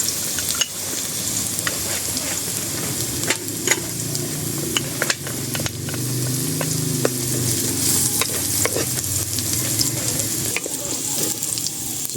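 Ginger and garlic sauté in annatto oil for bulalo, a steady close sizzle broken by occasional scraping clicks of a stirring utensil against the pan.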